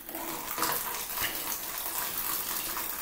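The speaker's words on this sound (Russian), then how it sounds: "Вот таким вот образом промываете этот фильтр." Water gushes and splashes as a cyclone vacuum cleaner's HEPA filter is washed under a running tap, a steady close rush with slight surges and no talk.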